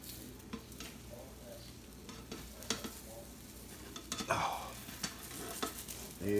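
Diced ham and cheese omelette frying in a pan, a steady soft sizzle with light stirring and scraping sounds, a brief louder clatter near the end.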